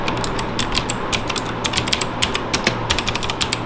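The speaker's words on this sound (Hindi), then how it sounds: "ब्लू स्विचेस के बारे में आपको बताऊँ, ये क्लिकी सा साउंड प्रोड्यूस करते हैं कुछ इस तरीके का।" Redgear Shadow Blade mechanical gaming keyboard with clicky blue switches, typed on up close in a quick, uneven run of sharp, crisp clicks, loud and alone with no voices.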